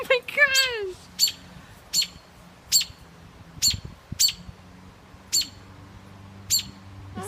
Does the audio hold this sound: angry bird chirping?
yes